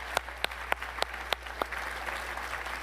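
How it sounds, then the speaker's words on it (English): An audience at a D-Day 80th anniversary event applauds the Reagan Foundation trustees. A handful of crisp, regularly spaced claps stand out over a soft background wash and low hum, thinning out toward the end. "How about a round of applause for our trustees?"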